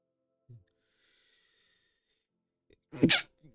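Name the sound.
sneeze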